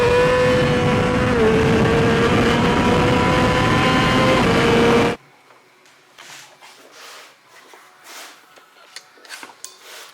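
A 2007 Suzuki GSX-R 600 with a Hindle full exhaust screams at full throttle, a loud sustained high-revving wail for about five seconds before cutting off abruptly into quiet knocks and handling noises.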